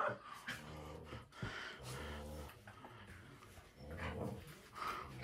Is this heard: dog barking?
yes